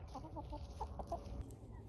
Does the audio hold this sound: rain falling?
no